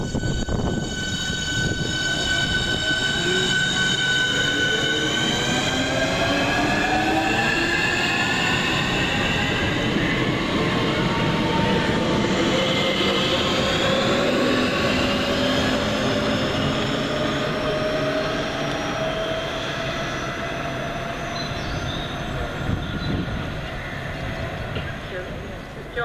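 Train at a London station, a loud sustained rumble with rising and falling motor whine as it runs through, accompanied by a spoken announcement.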